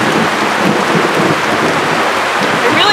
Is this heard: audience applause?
no